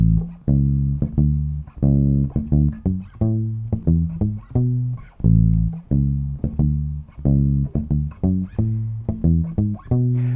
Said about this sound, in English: We could also try playing the reggae line that we tried with the palm muting earlier on.